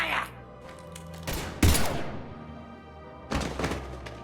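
Gunfire in the Mass Effect 3 video game: sharp thudding shots and bursts in a few separate clusters with a loud crack in the middle, a low game hum underneath.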